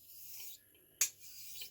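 Straight razor blade honed on a wet stone using plain water, short rasping strokes close up, with a quiet gap and a brief sharp scrape in the middle.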